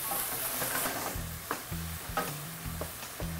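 Mushrooms and bacon sizzle steadily in a frying pan while a utensil stirs and scrapes in soft, irregular knocks, with no talking.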